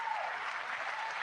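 An audience at a graduation-style ceremony gives a steady, even patter of finger clapping, a dense, soft hiss of many small taps with no clear rhythm that holds at a constant level throughout.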